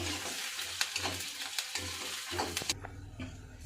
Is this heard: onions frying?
yes